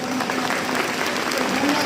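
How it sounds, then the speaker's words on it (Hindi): School assembly audience at an Indian inter college greeting the chief guest, a former minister, with sustained dense applause from a large crowd, steady clapping throughout with faint voices mixed in. "ताली बजा के भाई स्वागत कर दो।"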